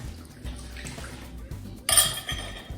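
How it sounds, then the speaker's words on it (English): Yeast, honey and water being poured into a bowl of flour and salt for bread dough, a soft liquid splash with a burst of pouring, plus light clinks of the bowl and utensils close by. "I'm gonna go ahead and dump my yeast, honey, and water in."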